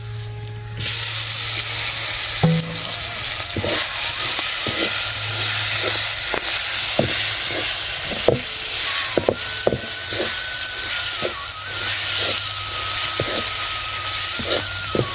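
Tomatoes and turmeric sizzle in a hot pan while a spicy tomato laddoo mixture is cooked, giving a steady broadband fry hiss with small scattered crackles and occasional utensil taps, fairly close throughout.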